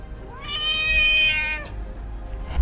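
A feral cat lets out a single drawn-out meow, rising and then falling, close and clear with no talking.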